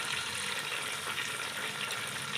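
Water poured into a pan of frying onions while cooking beef yakhni pulao, a steady hissing, sizzling wash that holds at an even moderate level throughout with no one speaking.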